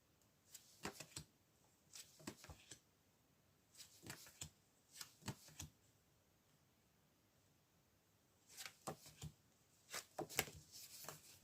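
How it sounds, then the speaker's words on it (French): A deck of tarot-style cards shuffled and drawn in several short bursts of riffling and flicking, close and fairly quiet, with pauses between, no voice. "Donc on va quand même essayer de tirer des cartes sur ce triangle-là."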